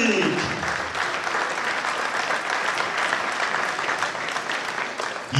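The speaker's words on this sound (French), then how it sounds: "Merci d'applaudir, Lubomir Jean-Carrick." An audience at a table tennis club match in Morez claps steadily for a player being introduced, a dense, sustained round of applause from a hall crowd that swells briefly and fades toward the end.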